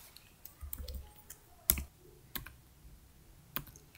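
Sparse keystrokes on a laptop keyboard click one by one at irregular intervals, close and fairly quiet, against a near-silent room with no speech.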